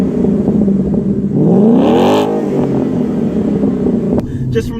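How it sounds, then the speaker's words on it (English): A 2014 Sherrod Mustang's exhaust climbs in a loud, rising rev as the car accelerates, swelling to a peak mid-run before easing back into a steady cruising drone heard from inside the car. "the exhaust on this thing sounds so incredible"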